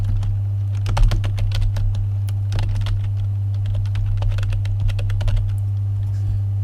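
Computer keyboard typing during a game-development live stream: quick irregular clacks of keys pressed in bursts, close and clear over a constant low electrical hum, with no speech.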